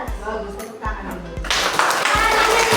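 A classroom of students breaks into a burst of clapping after a few soft thumps, the applause filling the last second or so at moderate loudness.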